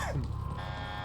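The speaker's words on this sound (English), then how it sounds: "You're giving me sirens right at the start of the game, which I don't like." A siren-like alarm tone sounds at the start of a video game round, holding a steady buzzing pitch for about a second with nobody talking.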